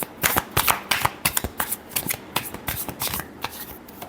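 A deck of tarot cards being shuffled by hand, a rapid run of crisp riffling and flicking card sounds at close range, steady over several seconds with no talking.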